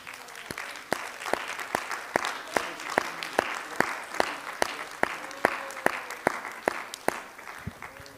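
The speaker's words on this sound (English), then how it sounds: "Let's give the Lord a hand clap of praise." A church congregation claps hands in praise, a steady run of sharp, evenly spaced claps that carries on for several seconds in a reverberant hall, with faint murmuring voices underneath.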